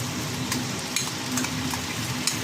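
Poppy seed paste for potol posto bubbles in a pan just after a splash of water goes in, giving a close, steady soft sizzle with faint scraping stirs and no talk.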